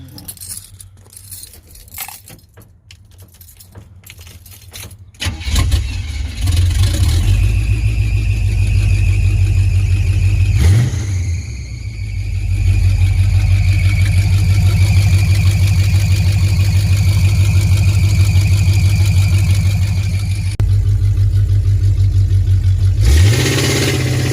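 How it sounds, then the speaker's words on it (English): Tapping and rustling, then a loud car engine roars to life with open headers and the exhaust cut off, idling heavily and revving with a brief squeal as the gas pedal sticks. "start it back up now with the open headers"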